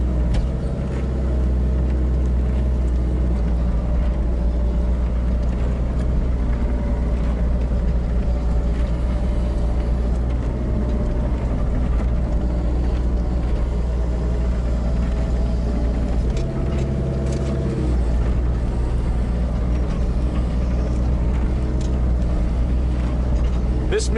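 A 10,000-pound machine fitted with pallet forks runs steadily with a deep, continuous engine rumble near at hand, working at a firewood stacking site; its drone holds throughout, with a brief shift in tone partway through.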